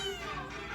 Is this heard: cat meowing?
yes